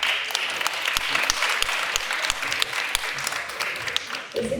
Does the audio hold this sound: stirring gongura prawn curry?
no